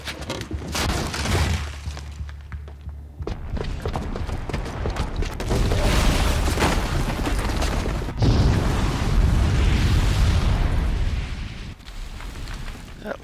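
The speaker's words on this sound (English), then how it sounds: "That was a pretty cliche movie explosion" A booby-trapped bomb goes off in the video game Horizon Zero Dawn, a booming blast with a shattering, rumbling tail that rolls on for several seconds.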